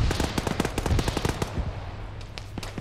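Mark 19 grenade launcher rounds fire in ArmA 3, a rapid, loud burst of repeated thumping shots that ends abruptly, followed by fainter scattered pops.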